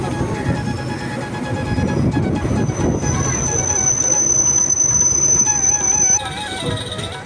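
Train pulling into Tarapith Road railway station, a steady loud rumble of wagons and wheels with a rising high squeal of braking near the end, voices murmuring underneath.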